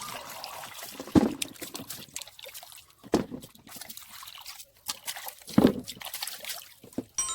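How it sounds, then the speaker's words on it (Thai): Peeled sweet potatoes are rinsed in clean water, giving soft intermittent trickles, drips and sloshes at close range, with a few sharper splashes in a quiet kitchen. "ปอกเสร็จเราก็นำมาล้างน้ำอีกครั้งนะครับเพราะว่ามันเทศมียาค่อนข้างเยอะครับเราก็ล้างน้ำสะอาดเลยครับ"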